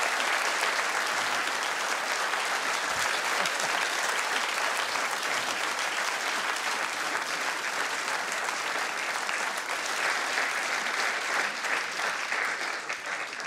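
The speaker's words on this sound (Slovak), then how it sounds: "Oni vždycky tleskají podle toho, jak kdo dlouho mluví" Sustained audience applause in a TV show studio, a dense, even wash of clapping from a large crowd that holds steady at full volume throughout.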